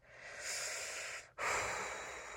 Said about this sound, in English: Sorry if you just heard that loud breathing.